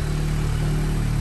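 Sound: VW Golf R exhaust with APR stage 2 downpipe

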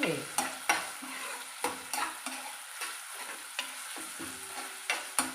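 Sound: ginger frying in a pan

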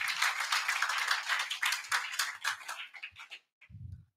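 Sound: audience clapping

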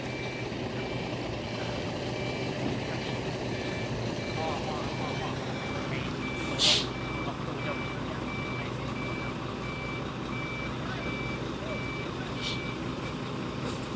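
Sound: truck reversing with reversing beeps

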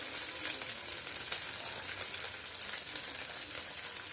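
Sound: ginger garlic paste and cumin frying in a pan

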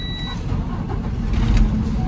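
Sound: manual truck engine being turned on

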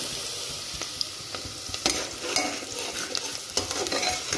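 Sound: garlic, onion and cardamom frying in ghee

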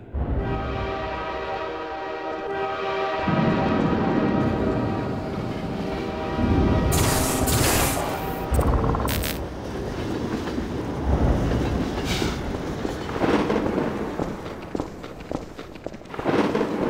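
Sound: train passing in Half-Life 2: Episode One video game

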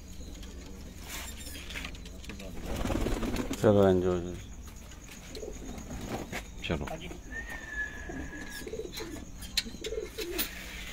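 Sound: pigeons cooing

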